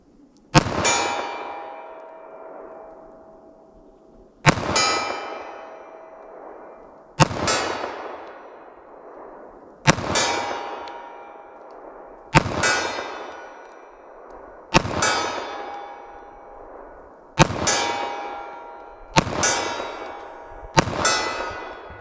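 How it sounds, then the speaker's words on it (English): Eight slow, evenly spaced .45 ACP 185-grain handgun shots, each a sharp crack followed by a ringing clang from a steel target that decays over a couple of seconds, loud and with no talking. "I'm just going to fire pretty slow, see if I can hit the target."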